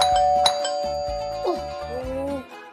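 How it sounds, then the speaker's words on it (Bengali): A cartoon doorbell rings in a bright repeated ding-dong pattern, several chimes in quick succession, loud and close with a short descending tone near the end. "ওহো, আবার কলিং বেল"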